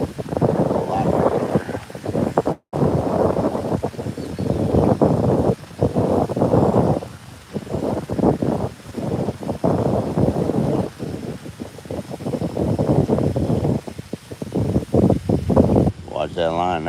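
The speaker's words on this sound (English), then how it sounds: "A little windy" Wind buffets the microphone in heavy, gusting roars out on a lake during a bass fishing trip, rising and dropping throughout the clip while someone talks now and then.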